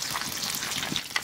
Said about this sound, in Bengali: তেলের মধ্যে দিয়ে দেবো কালো জিরে আর কটা কাঁচা লঙ্কা